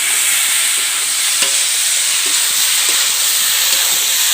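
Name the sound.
stirring tomatoes with chicken in a pan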